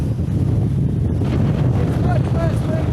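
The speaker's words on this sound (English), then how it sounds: "we came right in the middle of a windstorm" Strong windstorm wind buffets the microphone in a constant heavy roar in Baja California, Mexico, with faint chirps faintly audible behind it.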